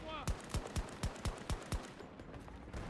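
Evenly spaced single gunshots from a weapon in the shooter Battlefield 2042, about seven sharp, close reports in a steady rhythm over background game noise, played through cloud gaming on mobile.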